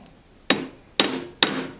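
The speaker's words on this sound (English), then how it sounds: "grab a hammer, I'll take the little rivet set and I'll just put that there and just flare that end ever so slightly out" A hammer strikes a small rivet set three times to flare a rivet end on a PVC knife sheath, each blow a sharp, close metallic tap spaced about half a second apart with a brief ring after it.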